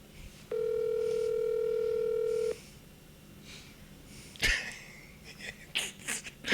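On a phone call that goes unanswered, a steady ringback tone sounds once for about two seconds. Faint breathing and scattered clatter follow.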